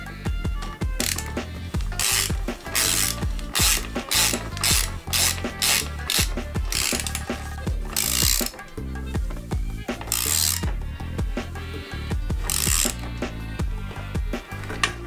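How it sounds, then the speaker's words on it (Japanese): A ratchet wrench tightens a right-hand-threaded bottom bracket with ceramic bearings on a Fuji Feather fixed-gear bicycle, sounding as loud, close, rapid pawl clicks in repeated strokes with brief pauses between them. "こっち側はもう正ネジなんで普通に締めていけば OK ですね。"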